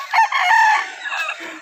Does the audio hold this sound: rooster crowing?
yes